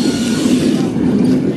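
A train carrying migrants rolls through Macedonia, a steady close rumble of wheels and carriages over the rails, loud and continuous throughout with no clear speech.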